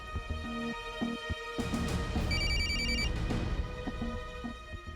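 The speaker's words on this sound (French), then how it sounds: "Regarde, ta mère est en train de m'appeler." A telephone rings with an incoming call, a repeating electronic bell tone sounding in clear bursts, moderately loud with no talking over it.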